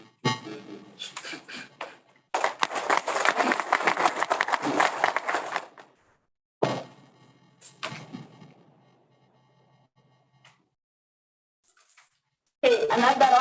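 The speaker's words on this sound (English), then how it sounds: "another round of applause for the Vice Chancellor" Audience applause breaks out at an academic conference opening ceremony, a loud sustained burst of clapping lasting a few seconds, with talk and quieter gaps around it and a brief clap flurry later.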